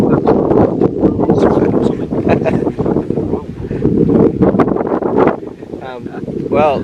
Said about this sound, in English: probably can't hear me because of the wind